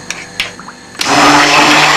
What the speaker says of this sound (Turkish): karıştırıcımızla eziyorum.